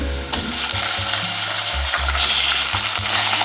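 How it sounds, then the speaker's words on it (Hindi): Boneless chicken slices sizzle and fry in a pan with garlic, ginger and onion, a steady close crackle with a low hum and a few soft stirring knocks, no talking. "अब इसमें मैं चिकन डाल दूँगी"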